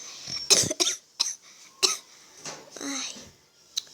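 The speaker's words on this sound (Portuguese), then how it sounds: "tô com essa tosse." A child coughs repeatedly in short, sharp bursts while lost in a forest, close and loud, with a few breathy pauses and faint voice sounds between the coughs.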